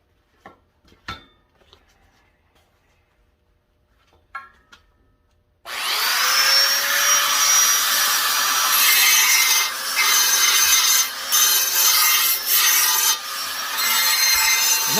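A Wen 6307 belt sander runs at full power against wood, a loud continuous grinding whir that starts abruptly after a few faint handling knocks and holds steady, with brief dips as pressure shifts.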